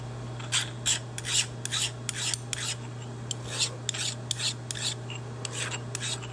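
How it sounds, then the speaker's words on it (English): Hand file deburring a milled metal part on a Bridgeport mill, quick rasping strokes in uneven bursts over a steady low machine hum, no voices. "I'll go ahead and grab a file and we'll deburr this real quick"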